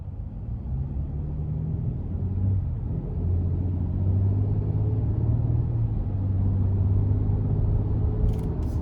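A 2025 Nissan Armada SL in sport mode accelerating up an interstate on-ramp, heard from inside the cabin as a steady, loud low engine rumble that climbs gradually in pitch over road roar.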